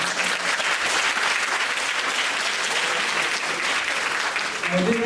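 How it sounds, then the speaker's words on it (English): An audience applauds a panel at a job search skills session, with sustained even clapping throughout and a voice faintly heard near the end. "let's give our panel a round of applause."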